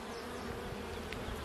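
Close, dense buzzing of many honey bees at a hive, a steady humming drone with no pauses.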